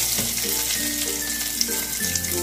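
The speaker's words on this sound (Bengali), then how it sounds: "এবার আমি ফোড়নের জন্য যে একটা তেজপাতা, লবঙ্গ, দারচিনি আর ছোট এলাচ রেখেছিলাম সেগুলোকে দিয়ে দিলাম" Whole bay leaf, cloves, cinnamon and green cardamom sputtering in hot oil for a prawn kalia, a continuous close crackling sizzle heard alone.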